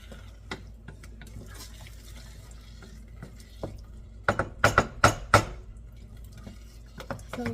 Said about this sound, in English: let's just stir it around